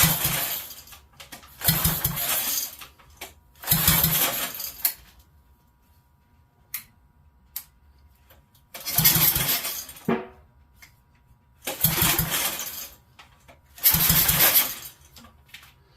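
A fully built Briggs & Stratton Raptor race engine being pull-started with a little choke, heard as five or six loud bursts of cranking and sputtering separated by quiet gaps, with a few faint clicks in between.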